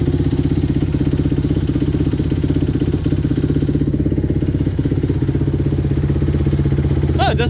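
A 2006 Honda CRF 250X dirt bike idles loud and close after a cold start, its single-cylinder engine thumping in a fast, steady, even rhythm throughout, with a short voice near the end.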